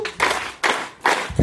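A church congregation at a wedding claps three times for God, three sharp, loud, evenly spaced bursts of many hands together with no talking over them.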